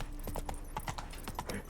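Roach the horse clip-clops along in The Witcher 3, a quick, close run of hoof falls repeated across under two seconds, with no talk over it.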